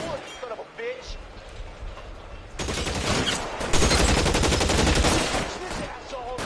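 Bursts of rapid gunfire from a shootout in the video game L.A. Noire, loud and dense through the second half, with a voice speaking over the first part.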